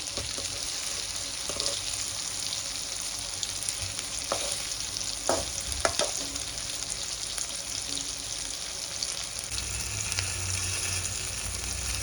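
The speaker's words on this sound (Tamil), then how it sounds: "ஒரு 2 பக்கமும் திருப்பி போட்டு நல்லா ஒரு ப்ரௌன் கலர் வர வரை இது நம்ம ஃப்ரை பண்ணி எடுத்துக்கலாம்." Paneer cubes frying in a pan until browned on both sides, giving a steady close sizzle with scattered crackles and a few sharp clinks of a utensil being turned.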